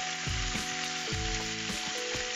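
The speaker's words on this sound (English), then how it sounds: "I'm just gonna keep on stirring them" Onions fry in a pan for an Ethiopian-style chicken stew, sizzling steadily while a utensil stirs them in repeated scraping strokes, close and loud without talk.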